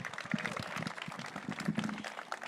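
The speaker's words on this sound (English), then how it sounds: "Give yourselves a round of applause." Employees applaud at the ASHRAE global headquarters grand opening, a dense patter of many hands clapping at once, soft and somewhat distant throughout.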